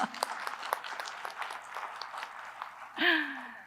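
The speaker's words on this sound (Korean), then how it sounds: "박수 한번 보내주실까요?" Church congregation applause during an afternoon worship service, a modest scattered clapping that thins out gradually, followed by a single voice speaking briefly at the end.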